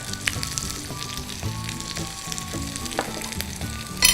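Ginger and garlic sizzle in hot oil already infused with star anise and cinnamon, a close, busy crackle with a few scraping stirs, short and continuous without voices.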